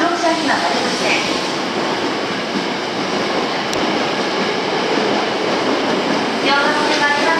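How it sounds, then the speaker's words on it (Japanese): A loud, steady rumble and clatter of an out-of-service train pulling into a Japanese station platform, continuous throughout with faint squeals, with a voice faintly audible beneath. "参ります電車は回送電車です。"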